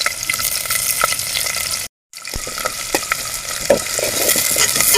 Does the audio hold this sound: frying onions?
yes